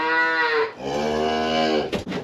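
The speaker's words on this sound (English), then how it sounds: "we got our 3 cows up here in the front." Heifers in a pasture moo loudly and close, two long drawn-out lowing calls one after the other, followed by a brief rustle, with no voices.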